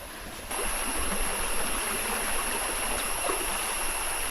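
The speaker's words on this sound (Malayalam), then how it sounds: "വെള്ളച്ചാട്ടത്തിൻ്റെ ഇരപ്പ് ഇവിടുന്ന് കേൾക്കാൻ പറ്റുന്നുണ്ട് കേട്ടോ" Kombazha waterfall at night, a steady broadband roar of rushing water heard from a distance, continuous and even throughout without voices.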